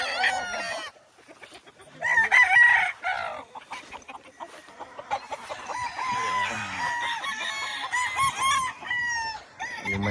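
Roundhead pullets and other chickens clucking, with a rooster's crow and assorted fowl calls at varying distances across a farmyard; fairly busy but mid-level, with no talk.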